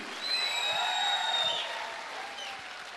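Audience clapping at a Safe Shop business gathering, a moderate crowd applauding beneath whistling tones and background cheering that gradually eases off.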